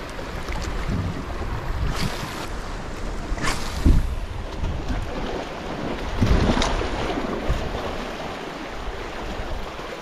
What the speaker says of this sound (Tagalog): umiihip na yung hangin